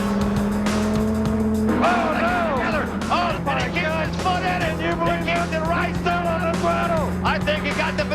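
Race cars roar around the Las Vegas Motor Speedway bullring during a USAC Triple Crown Championship event, engines loud and continuous with rising and falling pitch as cars pass, under excited commentary.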